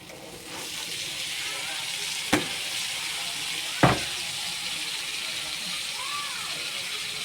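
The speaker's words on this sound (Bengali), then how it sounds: "আলু দিয়ে দিছে এখন আলুটার সাথে ভালোভাবে শুক্তিটা কষিয়ে নেবে" Diced potatoes frying with dried kachki fish in a pan give a continuous close sizzle, with two sharp utensil knocks partway through and faint voices in the background.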